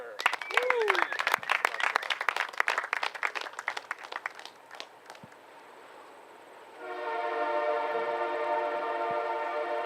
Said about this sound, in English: Casey getting sent off by the train whistle.